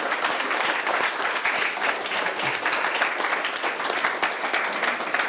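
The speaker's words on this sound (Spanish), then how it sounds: "queremos agradecerte este espacio con un fuerte aplauso de todos los estudiantes" Students applauding a guest at a school book and reading event, a continuous, fairly loud crowd of clapping hands with crisp individual claps, steady from start to finish, with no speech.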